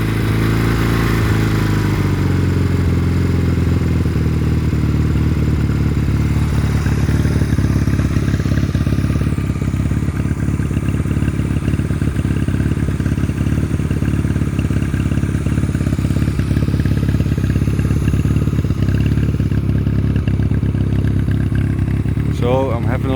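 A 1989 Honda Rebel CMX 250 motorcycle engine idling on choke, a loud, steady, close-up chugging rumble that continues throughout with no speech.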